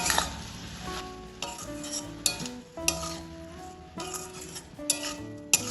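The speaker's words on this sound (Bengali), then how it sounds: "এবার ভালোভাবে সব কিছুকে মিশিয়ে নেব।" Prawns, red spinach, turmeric and green chillies are stirred in a hot pan, with a spatula scraping and clinking against metal at irregular intervals over a steady sizzle and soft background music.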